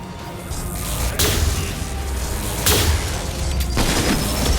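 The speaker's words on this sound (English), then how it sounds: "So the flashbang did not connect." Game combat in Mass Effect 2 with a flashbang grenade going off: several sharp booming bursts spaced over a few seconds against a steady noisy background of gunfire and action, fairly close and loud.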